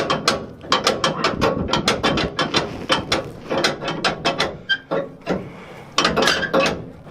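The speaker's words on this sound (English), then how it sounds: "I have a broken leaf spring, and I'll demonstrate the sound that it's making" Broken leaf spring on a vehicle being worked, a rapid series of sharp creaks and metallic clunks in an irregular rhythm, close and fairly loud with brief gaps between bursts.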